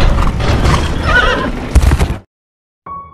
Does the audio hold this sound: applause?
no